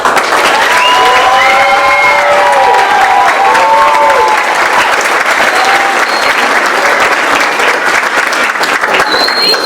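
A large school audience applauds a teacher, Miss Gallardo, at a 7th and 8th grade drama performance, with loud, dense clapping filling the room throughout, a few voices and cheers mixing in.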